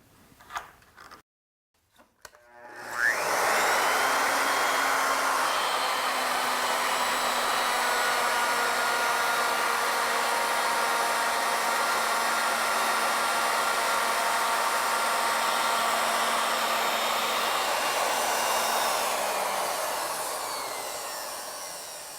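A router fitted with a V-groove bit cuts a spiral pass on an ornamental mill, a steady loud high whine that starts after a few clicks and runs about twenty seconds alone before tapering off.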